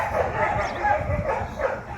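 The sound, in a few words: dogs barking in the neighborhood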